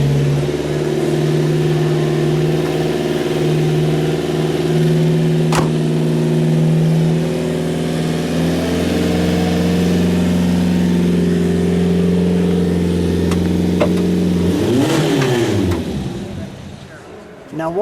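Engine of a 1960 Ferrari 250 GT Cabriolet PF Series II idling loud and close, holding a steady note for a long stretch before a quick rev that rises and falls near the end.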